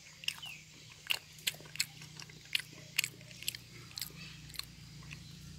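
Braised garlic pork is chewed up close, with soft wet bites and crunchy chomps repeating in a steady rhythm over a low background hum, no talking.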